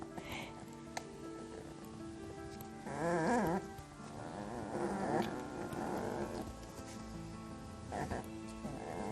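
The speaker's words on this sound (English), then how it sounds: "you can see those squawking puppies that you might be able to hear in the background" A litter of puppies squawks and yelps in high, wavering cries, loudest in a burst near the middle and returning in scattered bursts, heard at some distance from the listener.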